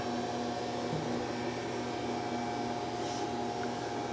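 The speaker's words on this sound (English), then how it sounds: "the machine is oscillating as well as swinging and in-feeding at the end of each stroke" An FC-250EX grinding machine oscillates and swings while in-feeding at the end of each stroke, giving a steady, continuous mechanical whir with a constant hum and no talk.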